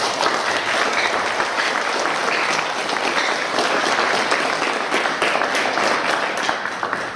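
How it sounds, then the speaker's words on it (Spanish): A church congregation applauds the mothers at a Sunday morning service, with dense, sustained clapping from a sizable crowd that holds steady for several seconds before easing slightly at the end. "vamos a darle un aplauso a todas las madres en esta mañana con nosotros."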